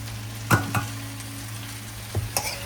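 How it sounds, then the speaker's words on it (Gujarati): A spoon stirs poha with onion and potato in a pan, giving a few distinct clinks and scrapes against the metal over a soft, steady background hum, with no one speaking. "ચમચો હલાવી નીચેથી ઉપરની તરફ ટર્ન કરી ધીરે ધીરે હલાવી"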